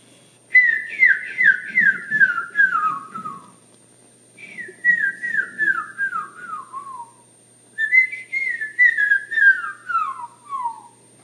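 A person whistles an imitation of a canyon wren call, three clear descending cascades of quick notes, each a rapid downward spiral, separated by short pauses, close and alone.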